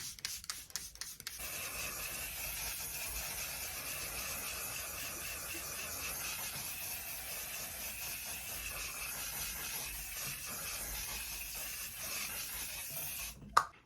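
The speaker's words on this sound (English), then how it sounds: "So we're gonna use the Sephora London spray." A continuous soft hiss of Sephora makeup setting spray misting, faint and close, holding for many seconds after a few quick clicks, ending with a sharp tap.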